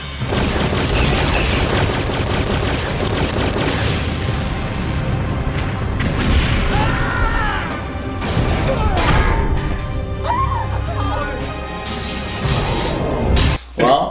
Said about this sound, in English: the humans decide to just unload and fire at them